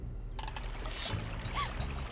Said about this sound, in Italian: Questo deve essere il rumore del fiume.